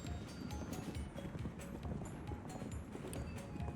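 Hooves of a horse galloping in Zelda: Tears of the Kingdom, a fast continuous clip-clop rhythm held steady throughout at a low, even level with soft ambient game sound behind it.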